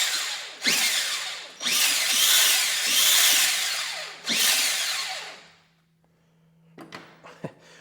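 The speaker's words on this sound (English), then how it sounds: "We got some major noise coming from the gears" Small RC Yamaha YFZ450 four-wheeler drivetrain under throttle, its plastic gears whining and grinding in loud bursts with brief pauses, then fading to a low hum and a few faint clicks.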